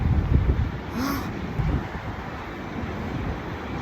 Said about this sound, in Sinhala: මාර හුළඟ වුණාට මේ හුළඟ කෙලින්ම ලිප්පකට දාලා වගේ මාරම රස්නේ